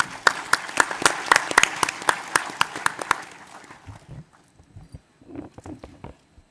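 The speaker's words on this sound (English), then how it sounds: "please give a round of applause for our moderator and also our panelists" A large audience claps in a burst of applause at a sustainability forum panel, loud and dense for about three seconds before dying away into scattered faint claps and low room murmur.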